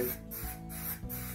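Spray can or sprayer applying metallic paint to a furniture piece, heard as three short hissing bursts separated by brief pauses, close and fairly loud with no talk.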